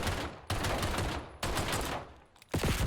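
Gunfire in a competitive shooter video game: loud bursts of rapid shots in three dense blocks separated by short gaps, up close with no talking.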